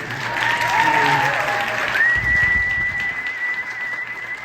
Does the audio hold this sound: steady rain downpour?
no